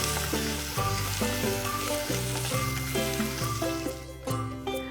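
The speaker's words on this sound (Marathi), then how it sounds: "आलं लसूण परतून झालेलं आहे" Crushed ginger, garlic and green chili sauté in hot oil for a Maharashtrian buttermilk kadhi, a steady sizzle running beneath prominent background music.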